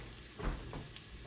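Vegetables for turkey soup sautéing in a pan, a soft steady sizzle with a brief louder burst of frying as they are stirred, close by and without talk.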